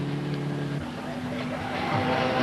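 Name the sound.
1967 race car engine surging up a hill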